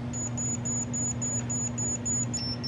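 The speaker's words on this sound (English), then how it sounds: "Slow and low frequency." A faulty Commodore 64 computer with a black screen beeps slowly and steadily, a run of short, evenly spaced high tones over a constant electrical hum.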